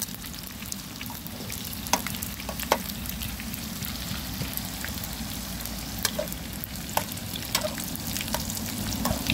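Dried fish (daing) frying in a pan outdoors beside a house, a steady dense sizzle with small crackles and pops throughout, no voices over it.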